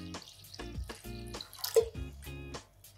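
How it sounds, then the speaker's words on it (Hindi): Water poured into a cooking pot on a stove to start sugar syrup for gulab jamun, heard as several short splashing gushes with brief pauses, close and moderately loud, with no talk. "दूसरी साइड पर मैंने बर्तन रख के शुगर सिरप तैयार करने के लिए मैं इसमें पानी डाल रही"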